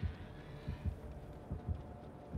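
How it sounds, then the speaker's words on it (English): The killer's warning heartbeat in the Dead by Daylight video game, low muffled thumps in paired beats repeating steadily, faint under game ambience with no voices. "I've heard a heartbeat, so they're not stealthing."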